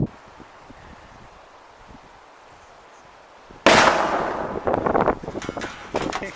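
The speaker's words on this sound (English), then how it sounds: "That's shooting the cannon out of the car door." A golf ball cannon fires at a car door from about four feet away, a sudden sharp blast after quiet outdoor wind, followed by a few rattling impacts and clatter close to the microphone.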